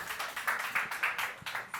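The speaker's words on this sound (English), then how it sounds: "Let's give a big round of applause to them" Audience applause at an EP release party, a steady wash of many hands clapping at moderate distance, with no talk over it.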